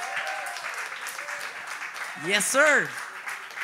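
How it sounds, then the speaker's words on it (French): Audience applause greets two guests on a French-language podcast, a steady dense patter running throughout, with a loud voice cheering over it toward the end. "j'aimerais qu'on donne une bonne main d'applaudissement à mes invités d'aujourd'hui, Christine Morancy et Jessie Shea"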